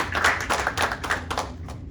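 A graduating class claps at the end of its graduation, a short burst of scattered hand claps from a small group, close and fading out within two seconds.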